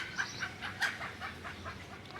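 Several native chickens cluck in short, repeated bursts close by, with a few sharper calls standing out over a steady outdoor background in a natural farmyard setting.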